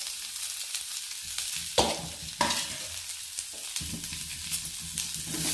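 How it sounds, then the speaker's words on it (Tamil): Onions sautéing in a pan for chutney give a continuous close sizzle, broken by a few sharp scrapes and stirring knocks of a spoon against the pan, with no voices. "நல்லா வதக்கணும்."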